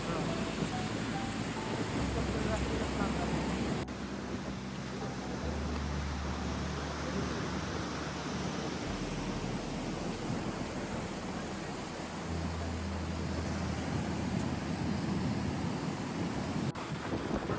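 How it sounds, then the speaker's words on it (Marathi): Steady wash of surf and wind rolls on continuously on the Konkan coast near the Maharashtra-Goa border, a broad roaring noise with no distinct voices, as if standing by the shore. "समुद्र किनारा"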